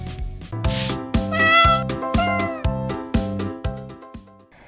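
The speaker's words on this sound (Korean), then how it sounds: "계속 큰 소리로 야옹대는 것이죠" A cat meows loudly and repeatedly, about eight insistent, drawn-out cries in a steady rhythm, close and clear with no other sounds.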